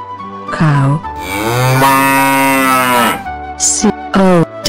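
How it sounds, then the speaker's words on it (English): A cow moos loudly and close, a long sustained low call with a rising and falling pitch, followed by shorter bursts of sound. "Cow."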